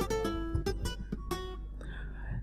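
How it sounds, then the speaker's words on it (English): The virtual nylon-string guitar As Nylon MK1 from Essential Guitars, played in FL Studio, gives a quick run of bright plucked notes and then a ringing sustained tone, close and clear. "this guitar sounds like this"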